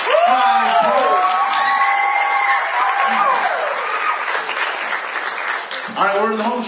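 A poetry show crowd claps and cheers for the poets, with whoops and shouted voices riding over steady applause that continues throughout, and voices surging again near the end.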